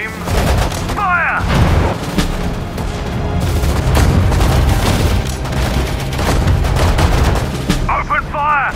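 Dense, loud gunfire from soldiers in the WWII strategy game Sudden Strike 4 at the Mareth Line battle, rapid overlapping shots and bursts with booms throughout, under shouted voice commands.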